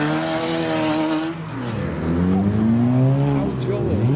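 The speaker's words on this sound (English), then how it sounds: "There is now an S14 departing the show." A Nissan S14 pulling away from a car meet revs loudly and climbs through the gears close by, the engine note sweeping up and falling, while people talk nearby.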